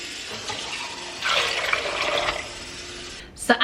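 Tap water runs steadily into a pot for soaking beans, a rushing stream that swells for about a second before stopping, followed by a couple of brief clunks.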